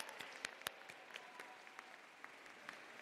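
A small audience gives a round of applause at a school closing ceremony, quiet and somewhat distant, with scattered individual claps standing out over a steady patter.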